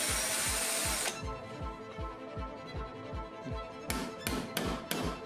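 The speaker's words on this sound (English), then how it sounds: "Now you have to drill through all layers of the handle." A drill bores through the stacked layers of a knife handle made from kitchen foil, giving a steady whirring grind with rapid rhythmic pulses, followed by several sharp taps near the end.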